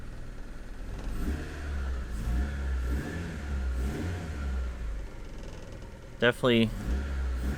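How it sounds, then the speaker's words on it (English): A Ford EF car engine, its exhaust just repaired, rumbles and revs steadily through the clip, with someone speaking over it and a sharp brief burst near the end. "feels like it's running better just from that acceleration"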